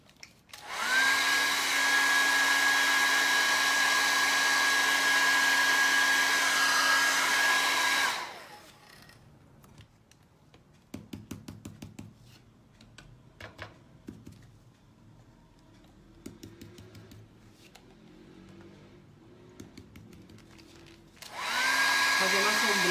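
A hair dryer dries yellow paint on a bag rack, roaring loud and steady for several seconds, stopping for a stretch of quiet handling noises, then starting up again near the end.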